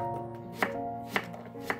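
Knife chopping red chili on a cutting board, three spaced, crisp thuds over a faint background hum.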